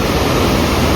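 A mountain stream near Kapuche Lake rushes nearby as a dense, loud, unbroken roar of water.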